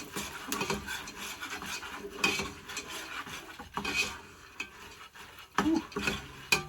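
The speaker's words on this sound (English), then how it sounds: "I've got my metal spoon over here. Just going to give her a few rub in here." A metal spoon scrapes and stirs blue raspberry popcorn in a pan, with uneven clattering scrapes and rustling kernels up close, with no talking.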